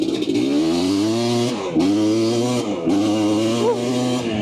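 An older race quad engine revs hard and close while being ridden, its pitch climbing in steady pulls and briefly dropping as gears are shifted, loud throughout with no talking.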